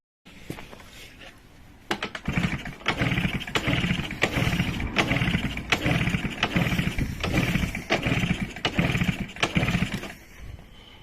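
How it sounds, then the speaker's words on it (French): A Peugeot 103 moped, just reassembled after ignition repair, sputters through repeated ticking, popping attempts before catching into an uneven, rattly two-stroke idle, close and fairly loud without talk. "Je vais faire le premier démarrage devant vous."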